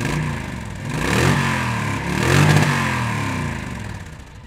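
A 2004 Honda VTX1300C cruiser motorcycle fitted with Cobra footboards runs a steady engine note with two swelling revs, alone and fairly close.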